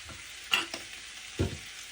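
Potatoes frying in a pan with turmeric and chili powder are stirred in, giving a faint sizzle with two distinct scraping strokes of the spoon.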